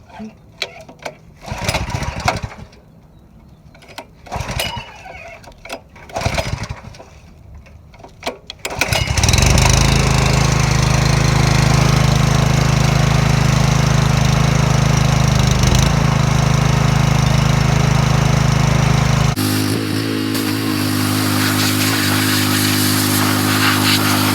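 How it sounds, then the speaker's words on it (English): A Huskee 35-ton log splitter's small engine takes a few pull-cord tugs, then catches and runs loud and steady close by, easing to a slightly lower even idle near the end. "Give her about half throttle. Bring it on to choke. Give it a rip."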